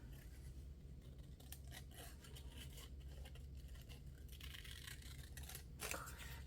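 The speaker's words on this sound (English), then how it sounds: "we're just gonna fussy cut this fella out" Small scissors snip through paper in quick, light cuts, a series of soft close clicks and slicing rustles with short pauses, heard alone in a quiet room.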